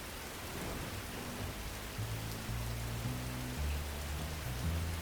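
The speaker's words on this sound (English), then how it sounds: "We were both standing in the pouring rain, in the dark, in the middle of nowhere." Heavy pouring rain at night in the middle of nowhere, a steady close hiss of downpour with no break, under a soft low musical drone.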